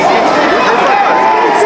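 Crowd chatter fills a packed small-hall boxing show in London, a steady murmur of many voices close around with a lively atmosphere.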